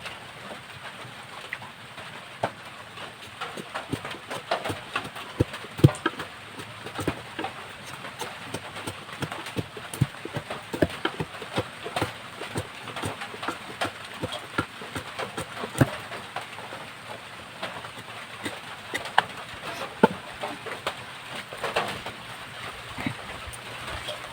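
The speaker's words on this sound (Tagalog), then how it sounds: "Ulan." Steady rain patters across a surface, a dense hiss broken by irregular louder drips and taps, continuous throughout with no talking.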